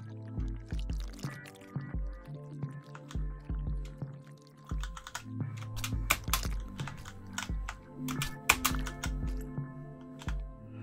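Quiet clacking of keys on a mechanical computer keyboard, typed in irregular bursts with a few heavier thumps and faint background tones, no talking.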